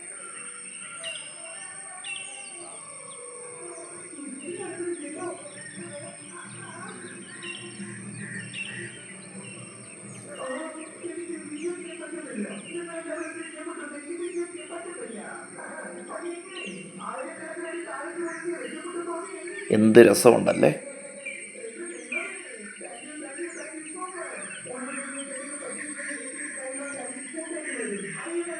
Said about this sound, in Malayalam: ആ കിളികളുടെയൊക്കെ ശബ്ദം പ്രകൃതിയുടെ സൗണ്ട്